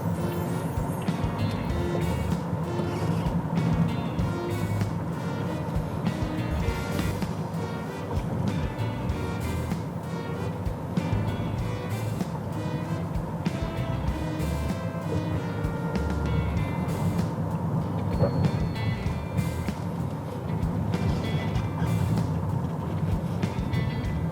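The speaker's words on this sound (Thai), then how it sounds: "ลองวงเลี้ยวยูเทิร์นกันหน่อยดีกว่า" A 2012 Toyota Camry 2.5G sweeps through a U-turn, its engine and road noise forming a steady, close, continuous rumble with faint tire and cabin sounds throughout.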